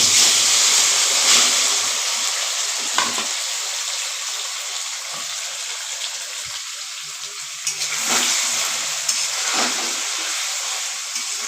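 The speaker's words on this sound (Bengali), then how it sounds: "তেল তো আমার গরম হয়ে গেছে, পনিরটা ছেড়ে দিই।" Paneer pieces fry in hot white oil in a wok, making a loud, continuous close-up sizzle and hiss that holds steady throughout, with occasional brief crackling bursts.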